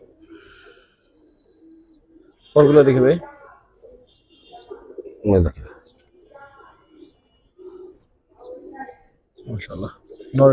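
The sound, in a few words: green gola pigeons cooing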